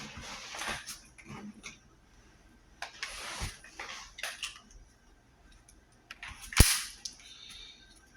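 A 17-round Taurus G2C pistol magazine is handled in a series of sharp metallic clicks and scrapes, with a loud crisp snap near the end and quieter rustling between.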